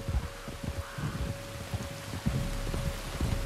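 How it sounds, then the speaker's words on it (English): Steady rain patters down in Red Dead Redemption 2, a dense continuous hiss of drops with low rumbling thumps beneath, fairly loud and even throughout with no voices. "You were right about the damn rain."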